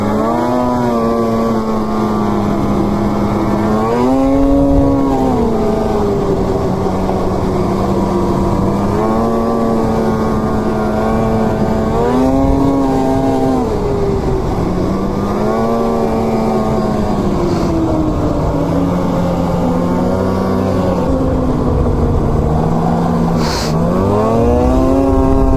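A Polaris Assault snowmobile engine drones steadily up close, its pitch rising and falling in repeated revving swells over a continuous whine, loud and alone throughout.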